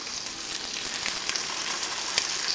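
An egg frying in a pan for a simple breakfast burrito, a steady close hissing sizzle with small crackling pops, continuous and alone.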